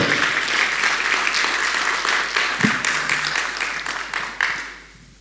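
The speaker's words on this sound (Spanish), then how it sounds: "Un fuerte aplauso para esta gran mujer" Sustained applause from a large church audience, dense and even, fading toward the end.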